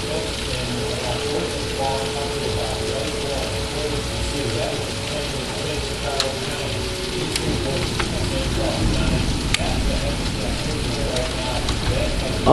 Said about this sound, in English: Starting to hail a little bit.